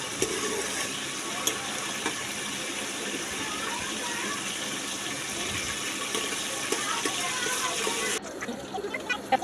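Garlic fries in a pan while an eggplant and potato curry is being made. A steady sizzling hiss fills the whole stretch, with small pops and the occasional clink of stirring, and a voice talks over it.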